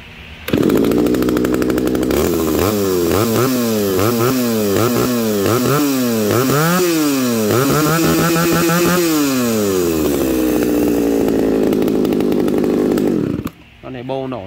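A Shindaiwa chainsaw engine starts up loudly, revs up and down repeatedly in wavering bursts, then settles to a steady drone before cutting off abruptly.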